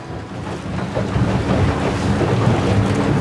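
Century Navigator 4100 CC-H center console boat with twin 600 outboard motors accelerating onto plane: a steady, close engine roar mixed with wind buffeting and water rush, gradually swelling in loudness, with no talking.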